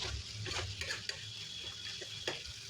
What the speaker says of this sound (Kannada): ಹೈ ಫ್ಲೇಮ್ ಮಾಡಿಕೊಂಡು ಫ್ರೈ ಮಾಡ್ತಾಯಿದ್ದೀನಿ